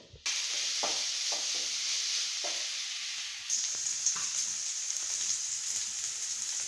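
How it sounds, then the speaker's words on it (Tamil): Small shallots, sliced lengthwise, sizzle steadily in hot oil in a pan, a bright, even frying hiss with a few soft clicks of stirring, close and continuous without any talk. "இது கொஞ்சம் நல்லா வதங்கட்டும்."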